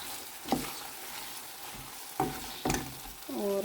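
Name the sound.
tomatoes frying with onion masala in pan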